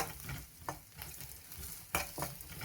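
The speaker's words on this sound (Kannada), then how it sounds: "ಈಗ ಇದು ಸ್ವಲ್ಪ ಫ್ರೈ ಆಗಲಿ" Onion and carrot frying in a pan for beetroot palya, a soft crackling sizzle broken by a few quick spatula scrapes and knocks, one louder clatter near the end.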